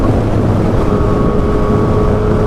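A 2016 Yamaha FZ-09 motorcycle accelerates in sixth gear on a highway, its engine a loud, steady low roar heavily mixed with wind rush.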